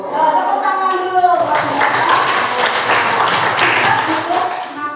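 A classroom of children clapping hands together on a teacher's cue, a busy burst of claps that starts about a second and a half in and continues steadily, with a voice speaking before it and children's voices mixed in.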